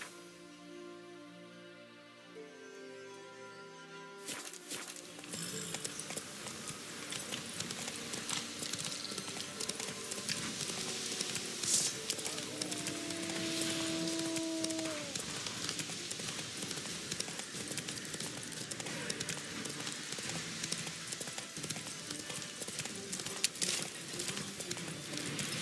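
A horse in a video game galloping with steady, rapid clip-clop hoofbeats, continuous and moderately loud, starting after a few seconds of quiet.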